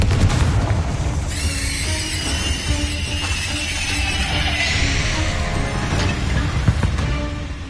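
A Confringo blasting curse from the video game Hogwarts Legacy erupts in a loud boom with crashing debris, followed by a sustained rumbling roar that slowly fades.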